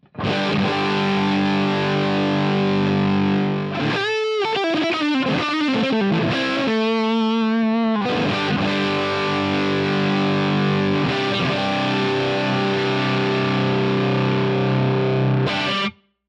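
Distorted electric guitar with a warm, rounded neck-pickup tone from SolderX and JC Custom pickups: sustained chords, a quick run of single notes and bends in the middle, then ringing chords again.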